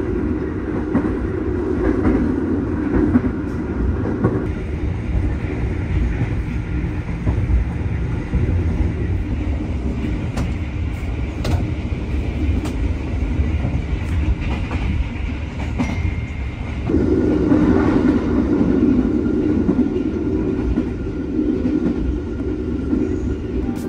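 Steady rumble and rhythmic clickety-clack of the Matarmaja economy-class passenger train in Indonesia, heard from inside a carriage, with a louder surge of wheel noise near the end.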